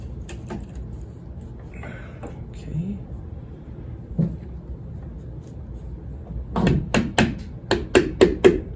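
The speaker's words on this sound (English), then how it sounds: "That's my plastic mallet." A plastic mallet taps the steering column collar on a 1969 Firebird tilt column, a burst of about eight quick, sharp knocks near the end, after scattered handling clicks and speech.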